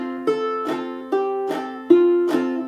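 Fingerstyle ukulele plays a Freight Train chord melody: single melody notes alternate with strummed chords filling the gaps, in an even, unhurried rhythm, close and clear with no talking.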